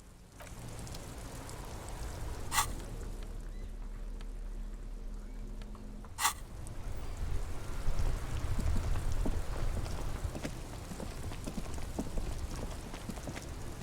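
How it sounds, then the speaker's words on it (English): Steady rainfall in Disco Elysium patters over a low rumble, with a couple of sharp bright cracks and muffled knocks breaking through the wash of noise. "This rain will not let up anytime soon."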